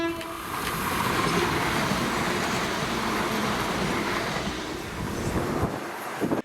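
The 1455 Edinburgh to Glenrothes service passes Dalmeny station, a loud, sustained rumble and clatter of the train rolling by close to the platform before it fades out abruptly at the end.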